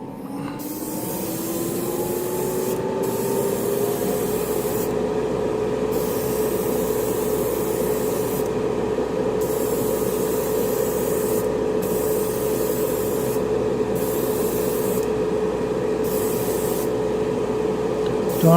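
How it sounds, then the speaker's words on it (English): A workshop extractor fan runs steadily during airbrush painting of an M48A3 Patton tank model for a Vietnam diorama, giving a loud continuous whooshing drone with a faint tonal hum and slight periodic dips, with no talking. "you'll probably not hear me with the extractor on"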